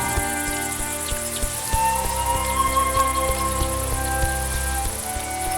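Crickets chirp in steady, overlapping rhythms through a grassy evening scene in the game A Juggler's Tale, a continuous insect chorus layered over soft ambient music tones.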